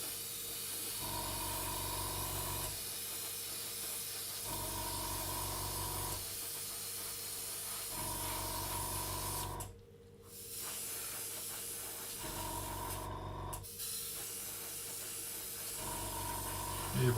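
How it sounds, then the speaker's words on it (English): Airbrush spraying thick paint onto the top wings of a scale model, repeated bursts of close hissing spray of a couple of seconds each with short pauses between, the airbrush sputtering slightly as it struggles. "Airbrush is struggling a bit with this."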